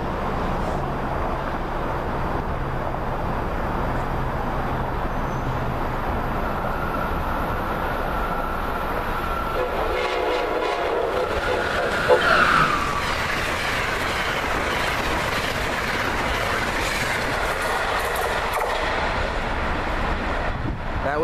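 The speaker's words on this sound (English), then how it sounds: "here comes the ACS-64. Chasing my SEPTA train. See if I can get him to blow." An Amtrak ACS-64 electric locomotive rumbles past at Cornwall Heights in a steady roar of wheels and wind buffeting, with a brief horn note rising near the middle, heard from trackside outdoors.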